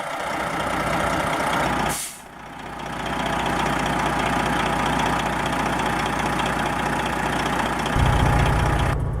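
A 1998 Kenworth T800 truck with a Detroit Series 60 12.7-liter 485-horsepower diesel idles with a steady, loud rumble, broken early by a sharp hiss of released air and later by a deepening low drone.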